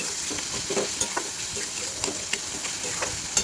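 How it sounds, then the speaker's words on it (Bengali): Spices, a little sugar and chopped chilli sizzle in hot oil in a pan while being stirred, a steady close frying hiss broken by irregular scraping and clinking strokes of the spoon. "এবার ভালো করে ওগুলোকে নেড়ে নরম করে নিচ্ছি"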